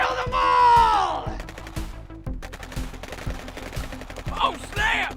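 Rapid bursts of machine-gun and rifle fire in a post-apocalyptic action movie battle against sharks, sharp repeated shots crackling close and loud with shouted voices and screeches mixed in.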